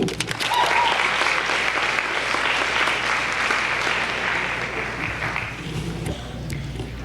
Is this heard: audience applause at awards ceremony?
yes